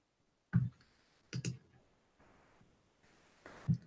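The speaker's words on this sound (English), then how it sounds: "I'm getting used to a new mouse, so if I'm clicking all over the place, you'll understand" A computer mouse clicks in a few separate sharp bursts spaced over several seconds, close and fairly quiet in an otherwise still room.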